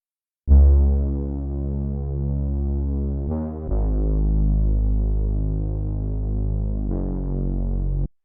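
Deep synthesizer bass with an envelope modulating its filter cutoff, so the highs are cut away, leaving rounded, muffled sustained notes that change pitch in a few long held phrases with brief gaps between them.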